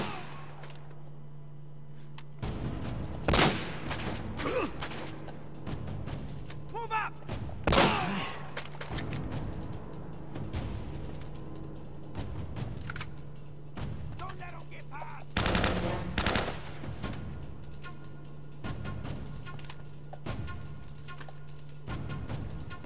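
Gunfire in the action game Uncharted: Drake's Fortune: a game soundtrack hums steadily beneath loud separate shots and short automatic bursts, with sharp clusters around the middle and later on.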